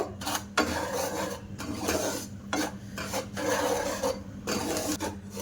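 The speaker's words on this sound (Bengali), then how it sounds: "এই ঘি দিয়ে সুজিটা ভাজা করলে এই জিলিপির টেস্টটা খুব সুন্দর হয়" Semolina stirred and roasted in ghee over low flame gives repeated rhythmic rasping scrapes of a spatula across the pan, with a soft sizzle beneath and no speech.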